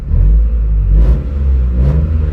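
A 10th-generation car engine close by, after new spark plugs were fitted, rumbling and revving up twice in quick succession, loud and alone.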